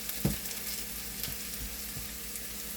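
Diced potatoes sizzle and fry steadily in a pan for potli poha made with puffed rice, with a few soft stirring clinks, close and moderately loud with no talking.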